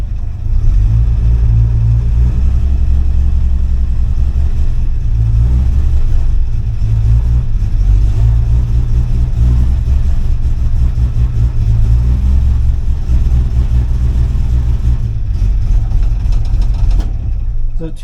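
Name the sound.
vehicle engine idling and revving while put in reverse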